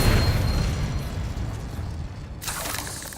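A Confringo spell blast in the game Hogwarts Legacy: a loud, dense boom that rumbles on for a few seconds, then gives way to a sharp hissing crackle near the end.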